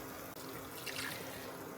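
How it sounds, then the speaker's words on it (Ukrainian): Water pours steadily into a pot of rice cooked with bay leaf, a soft continuous trickling stream heard faintly up close. "я додам дві склянки на 200 мл води"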